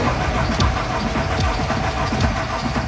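An Audi car engine fires up and runs with a loud, close, continuous rumble, its uneven low throb holding steady throughout with no voices.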